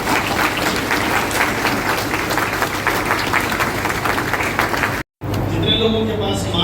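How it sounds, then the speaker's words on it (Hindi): A church congregation at a Rapture Ready feast gives loud, sustained applause in honor of Jesus Christ: close, dense clapping that continues for about five seconds, breaks off abruptly, then resumes briefly with a voice speaking over it. "और एक जोरदार ताली हम प्रभु यीशु मसीह के लिए बजाएंगे।"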